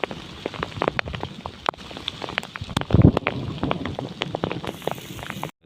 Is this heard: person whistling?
no